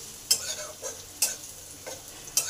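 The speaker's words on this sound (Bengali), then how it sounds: "রসুনটাকে ভালো করে ভেজে নেব" Garlic paste frying in oil in a pan for a lentil dish, a soft continuous sizzle broken by three or four sharp scraping strokes of a spatula stirring it.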